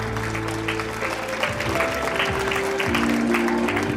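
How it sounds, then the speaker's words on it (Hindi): Audience at a school alumni meet claps steadily and fairly loudly, with a hum of background voices and tonal music-like sounds mixed underneath. "एक बार जोरदार तालियां हो जाए सर के लिए।"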